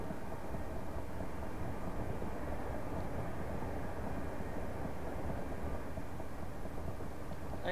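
Steady, loud rumbling drone of a Class 375 electric train in Train Simulator Classic, London to Ramsgate service, continuous low-frequency running noise with no breaks.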